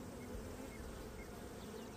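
Honeybees hum at an open hive during a beekeeping inspection, a dense, steady buzz from many insects close by, continuous and even with no voices over it.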